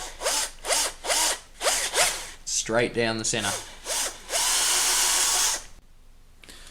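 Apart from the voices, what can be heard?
power drill boring plastic barrel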